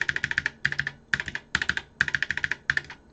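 Keys on a Memotech MTX500 computer keyboard, just repaired after feeling sticky, clack in quick bursts of several presses with short pauses between, close and fairly loud with no talking.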